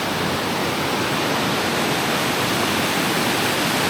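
A strong mountain stream in Norway rushes loud and close in a dense, unbroken roar of churning water.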